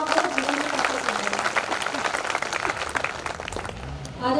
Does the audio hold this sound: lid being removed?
no